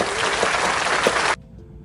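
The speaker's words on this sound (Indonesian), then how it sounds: "beri tepuk tangan" A classroom claps for a student group after its discussion presentation, loud close applause that cuts off abruptly partway through, leaving near silence.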